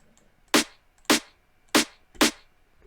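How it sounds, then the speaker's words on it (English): Distorted, noisy rim shot snare drum sample hits four times alone in an evenly spaced rhythm, each strike sharp, bright and crackly with a quick decay over faint background hiss. "And the snare sounds like this by itself."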